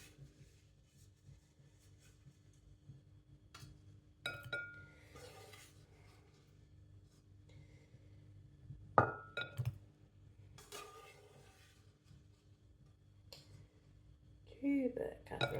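Sausages moved into a glass casserole dish, producing faint scattered clinks, taps and scrapes of utensils against glass and pans at close range, with occasional louder knocks amid quiet kitchen ambience.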